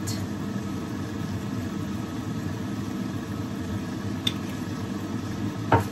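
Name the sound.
mixing frozen shrimp with seasoning in pan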